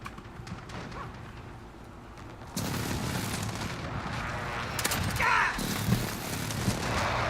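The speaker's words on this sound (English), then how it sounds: "Enemy precision airstrike inbound." Precision airstrike explosions in Apex Legends, a series of rumbling booms and blasts that swell into a dense, sustained barrage mixed with scattered impacts and faint game sounds.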